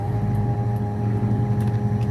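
A Ford Mustang engine idles roughly around 1,000 rpm, giving a steady low rumble with a constant hum, heard alone with no talking.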